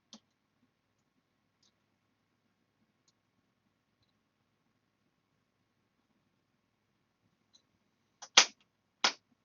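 Tape tails being cut off at a workbench, heard as a few sharp snips near the end after near silence, with one faint click at the start.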